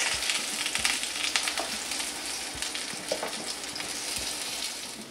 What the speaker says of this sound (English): The eggplant slices are frying very well